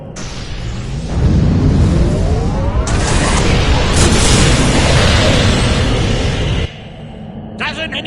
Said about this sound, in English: If I overload those conduits, I'm sure to make a big explosion.